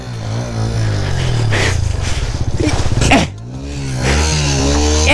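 A motorbike stuck in snow revs its engine hard while the rear tyre spins in place, a loud rising and falling engine drone with a rapid buzzing surge in the middle, close by with no speech.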